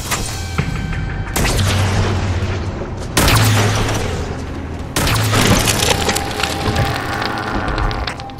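In Halo 4 Spartan Ops, a gun emplacement blows apart in a string of loud, close booms with splintering crashes, three or four heavy blasts landing a second or two apart over a rumbling, debris-filled roar.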